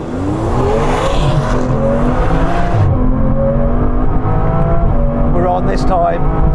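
An Aston Martin V12 Vanquish accelerating hard from inside the cabin, the engine note climbing steadily through the gears, loud and continuous, with a brief voice over the roar.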